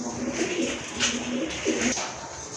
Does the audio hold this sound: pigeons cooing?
yes